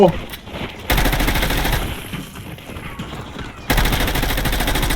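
M4 rifle fire in Call of Duty Black Ops 6 comes as two loud, dense automatic bursts with a pause between them, close and forceful.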